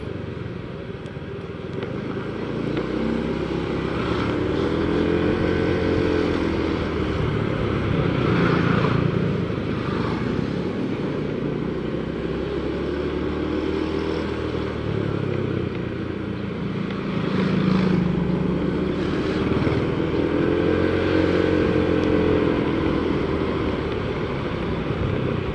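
Motorcycles and cars pass through congested traffic on a bypass route near a roundabout in Cibiru, a continuous close engine drone with swelling passes as vehicles go by, steady and loud throughout.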